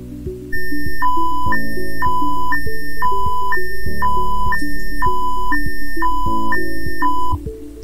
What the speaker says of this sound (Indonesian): apabila tangki 2 telah terisi penuh, maka akan dideteksi oleh sensor level yang ditandai dengan menyalanya alarm